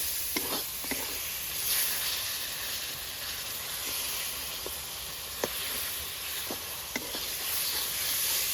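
Spice paste for Bengali steamed chicken sizzles steadily in a pan as it is stir-fried, a continuous frying hiss broken by short scraping clicks of a spatula, close and fairly quiet with no voices.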